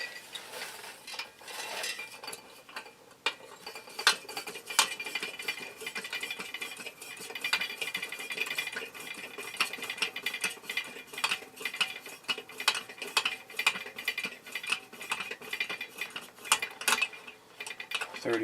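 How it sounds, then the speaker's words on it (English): Fuel tank of an AGM 3016 lantern being pumped up: faint, continuous mechanical clicking and squeaking strokes of a small hand pump, quiet and close, with no talk. "I'm going to pump up the one on the right first and we'll light it."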